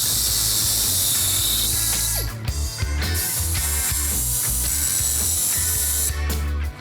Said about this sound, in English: I'm gonna cut the U-bolts in half.